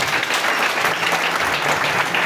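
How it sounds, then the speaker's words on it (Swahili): A church congregation breaks into applause, a thick continuous wash of many hands clapping close by for the full short span, with no talk over it. "Tuhurire Ngai ucio makofi mega."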